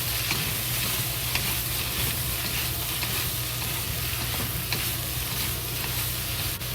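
Wok stir-fry of cucumber, carrots and ginger, loud continuous sizzling hiss with intermittent scraping taps of a spatula and a low steady hum underneath, no one talking.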